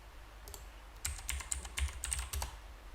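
Someone types on a computer keyboard in short bursts of crisp key clicks, a few isolated taps followed by a quick run of close keystrokes.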